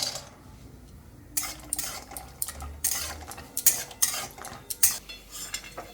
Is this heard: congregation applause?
no